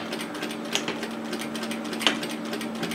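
A sewing machine stitching fabric for a sun hat, a fast continuous mechanical whirr of rapid needle strokes with a couple of small clicks, close and steady.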